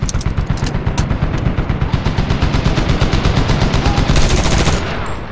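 Sustained machine gun fire in Medal of Honor, a long fast burst of loud, close, evenly spaced shots lasting about five seconds, with a brief burst of other noise near the end.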